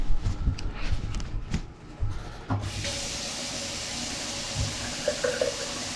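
Water runs through a freshly unclogged kitchen sink drain, a steady broadband rush that starts abruptly partway through and continues loud and close after some earlier handling sounds.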